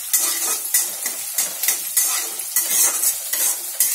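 Onions and dried curry leaves sautéing in oil in a pan, loud crackling sizzle broken by regular rhythmic stirring scrapes of a spoon, close up.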